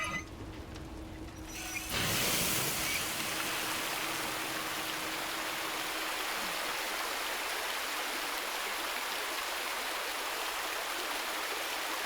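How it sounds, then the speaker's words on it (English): Water gushes through a pipe in Resident Evil 2, starting abruptly after a quiet opening and then running as a loud, steady, broadband rush with no talk. "that valve redirected the water to the pipe we actually want"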